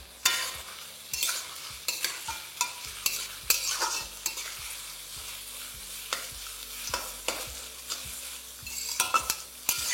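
Sliced onions sizzle in a pan for a chicken dish while a utensil stirs them, with repeated scraping strokes over a steady soft frying hiss.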